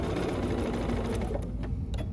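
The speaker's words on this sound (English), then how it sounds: "I'm gonna stitch right down that pattern. And I've got matching thread in my machine." A sewing machine stitches steadily along a striped swimwear pattern with matching thread, giving a continuous close, even mechanical whir for its full short length.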